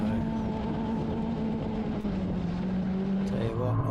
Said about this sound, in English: Car didn't sound real good as it went across the line either